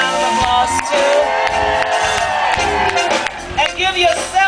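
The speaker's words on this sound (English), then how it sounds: "give yourself a round of applause" A concert crowd at an outdoor music festival cheers and whoops loudly, with shouting voices over clapping and a steady roar that dips briefly near the end.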